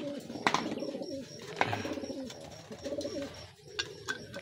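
Domestic racing pigeons coo repeatedly in soft, rolling phrases nearby, with occasional chirps and light clatter around them.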